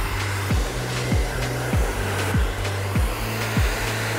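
Hair dryer blowing constantly while hair extensions are dried in a salon, a loud continuous roar close by with a rhythmic swooping pulse about every half second as the airflow is moved and brushed through.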